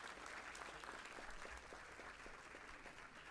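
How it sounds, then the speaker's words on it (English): Faint, distant crowd applause at the HackMIT-WPU 2025 hackathon event, a continuous wash of many hands clapping at low volume throughout. "Big round of applause."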